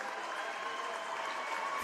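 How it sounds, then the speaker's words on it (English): Fans in attendance at a high school basketball game applaud steadily, a sustained wash of clapping from the crowd in an indoor gym, moderately distant and even throughout. "Gets a well-earned round of applause from the fans in attendance."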